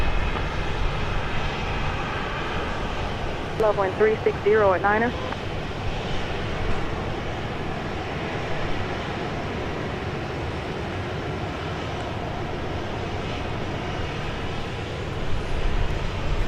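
At Dallas Love Field, a jet airliner's engines hold a broad, steady roar as it rolls for takeoff, loud and sustained at a distance, with a brief air traffic control radio transmission heard partway through.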